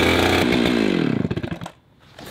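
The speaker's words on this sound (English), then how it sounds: "Got the chainsaw sharpened." A freshly sharpened chainsaw runs loud and close, its engine note sliding down as it bogs and sputters, then it dies out into near silence before a faint background returns.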